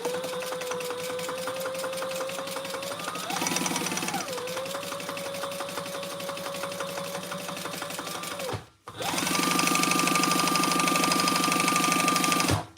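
A sewing machine bastes a trifold wallet with a fast, steady mechanical whir and needle clatter, loud and close, briefly stopping and then resuming at a slightly higher speed.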